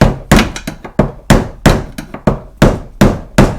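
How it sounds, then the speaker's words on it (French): A big hammer strikes sharply to tighten the fuel pump ring on a BMW 745i V8, about a dozen loud metallic whacks in an uneven rhythm, close up with no talk. "on prend un gros marteau et on vient resserrer sèchement la bague"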